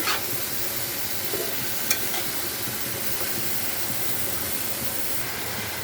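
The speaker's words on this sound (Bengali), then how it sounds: "যে সবজিগুলো একটু শক্ত বেশি, এই সবজিগুলো দিয়ে আমি নেড়ে চেড়ে কষিয়ে নেব" Hard vegetables such as radish, turnip and bottle gourd are stir-fried with spices for a mixed vegetable dish, making a constant loud sizzle and hiss with an occasional scrape of stirring.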